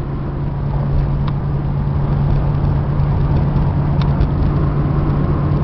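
A Chevy-powered Class C motorhome engine climbs a hill under light throttle, a steady, loud, even drone with a low hum that holds constant throughout, no voices.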